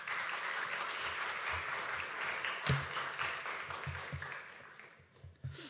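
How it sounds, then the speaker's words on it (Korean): A church congregation at a Wednesday evening service applauds with a sustained wash of many hands clapping, with a few louder claps standing out before it thins and fades near the end. "오른쪽에서 박수 소리가 크게 나니까 더 힘이 나네요."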